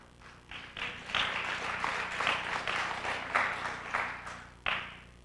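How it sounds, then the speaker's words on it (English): Spectators at a professional 9-ball pool match applaud in an indoor hall, with scattered, uneven claps swelling and ebbing over several seconds and a sharp final burst near the end. "Crowd appreciating how difficult it's going to be for Davis to get anywhere from this position"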